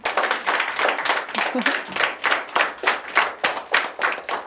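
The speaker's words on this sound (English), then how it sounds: "So give yourselves a clap." Children in a primary school classroom clap together in a steady rhythmic beat, about a dozen loud, even claps with a few voices faintly underneath.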